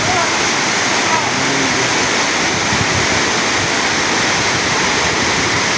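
Strong rushing water current, most likely a waterfall or fast stream, roars as a steady, loud, broadband wash close by, continuous for the whole stretch with no clear talk above it.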